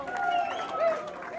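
About a thousand people at Eastern Iowa Airport cheer and applaud returning Honor Flight veterans, a sustained crowd roar with clapping and scattered voices.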